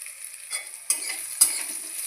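Chopped onions fry in a pan with a soft sizzle, broken by a few sharp scrapes and stirring strokes over a short, fairly quiet stretch.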